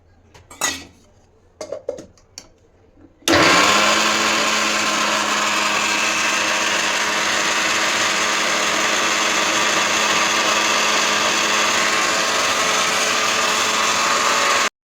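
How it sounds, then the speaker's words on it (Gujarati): A few light clinks of a jar and lid come first, then a mixer grinder roars into a loud, steady whir as it crushes chutney with Kashmiri chilli for Mysore dosa, running without a break to the end. "હવે આપણે ક્રશ કરી લઈશું."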